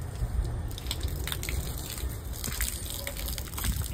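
A water hose sprays steadily against a tempo during a morning wash, giving a continuous broad hiss and splash with no speech.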